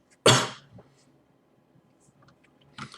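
A single sharp, close cough bursts out, followed by faint small clicks and a softer breathy sound at the end.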